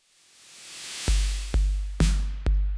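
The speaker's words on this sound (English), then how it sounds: "So we're going to have a kick every quarter note." A swelling reversed cymbal builds into four punchy electronic kick drum hits on quarter notes, booming low, evenly spaced and loud.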